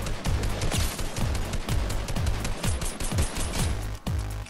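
Rapid bursts of automatic gunfire from the video game Fortnite ring out loud and close, shots stacking into dense rattling volleys with a short gap near the end.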